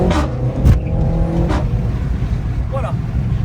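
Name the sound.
Renault Megane 4 RS 280 hp car accelerating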